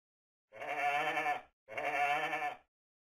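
A sheep bleats twice in close succession, each bleat about a second long with a wavering, nasal tone, near and clear.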